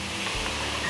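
Collard greens hit hot pork lard in a large pan over high heat, giving a steady, dense sizzle and hiss that fills the short moment with no talking.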